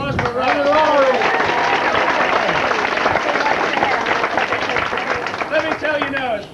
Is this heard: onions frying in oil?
no